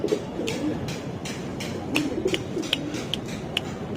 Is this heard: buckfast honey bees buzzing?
no